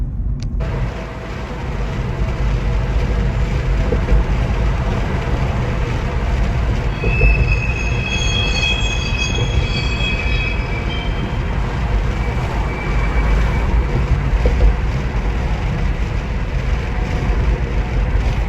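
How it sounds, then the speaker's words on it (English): Train wheels squeal in high, piercing tones over a loud, continuous rumble of rolling rail cars, the screech swelling and fading midway. "Call that shot the screaming of the trains"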